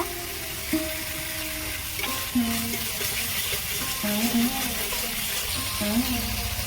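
Masala fries in oil for a raw tomato and fish curry, a soft, even sizzle held at low volume across the whole stretch, broken by a few light stirring clinks.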